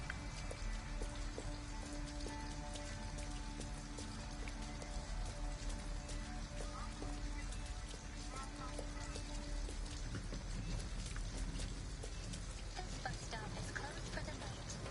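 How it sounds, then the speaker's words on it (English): Rain falls steadily in the video game Detroit: Become Human, a constant hiss that runs through the whole stretch beneath sustained musical tones. "It's raining."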